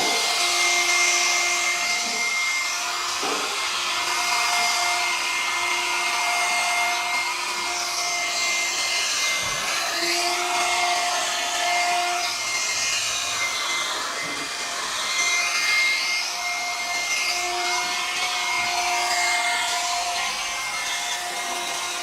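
Steady whirring blower, like a heat gun or hair dryer, warming 3M adhesive on a glossy carbon fiber spoiler wing for a Tesla, with a continuous airy hiss and faint tonal whine.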